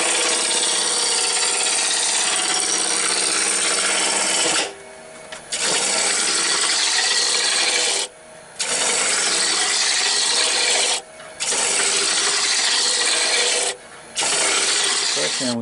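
Gouge rough-turning a wood bud vase blank on a lathe, a loud continuous rasping scrape broken by several short pauses as the tool lifts off the spinning wood.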